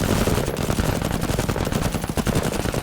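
Rapid automatic gunfire in the video game Menace, a dense continuous burst of machine-gun shots, loud and close, with no talk over it.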